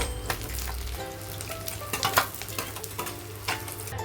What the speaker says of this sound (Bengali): তো মাছগুলো লাল লাল করে ভাজা হয়ে গেছে, এখন আমি এটা তুলে নেব।